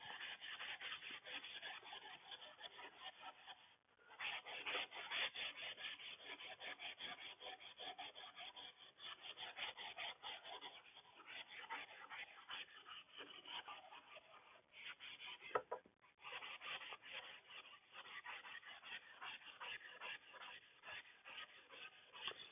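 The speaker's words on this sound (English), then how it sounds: "Hand sanding." Continuous rasping strokes of 220-grit sandpaper hand-sanding wood, close and steady, with brief pauses around four and sixteen seconds.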